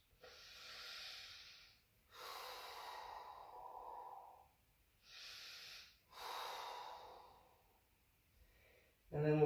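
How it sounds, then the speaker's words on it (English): Slow, deep yoga breaths, near and soft, alternating long airy inhales and exhales in a steady rhythm, with a brief louder rustle at the end. "Deep inhales and exhales."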